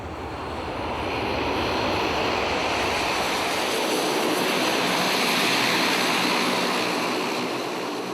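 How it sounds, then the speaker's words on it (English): An EasyJet jet airliner roars through its takeoff, a broad steady rushing thunder that swells to a peak and holds, loud and close. "the EasyJet from Luton takes off again"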